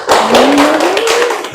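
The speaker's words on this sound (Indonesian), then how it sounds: "Oke, tepuk tangan." Classroom of students clapping together in a brief, dense burst of close, quick hand claps, alone without talk.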